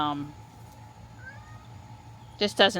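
A cat gives a short meow at the start, then a louder, drawn-out meow near the end, with quiet room noise between.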